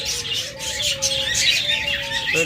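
Pet lovebirds, cockatiels and budgerigars kept in pairs for sale chatter and chirp continuously, a dense overlapping chorus of many birds close by, with a low steady hum running underneath.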